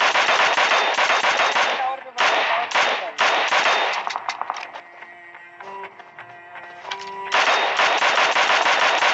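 Mini14 rifle fire in the PUBG battle game, loud rapid bursts of cracking shots in quick clusters broken by short pauses and a brief stretch of quieter game sounds.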